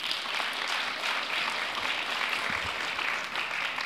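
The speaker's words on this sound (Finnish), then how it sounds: "Annetaan myös keskustelijoille kannustavat aplodit." Audience applause for the panelists at a public debate, a steady, even wash of many hands clapping throughout.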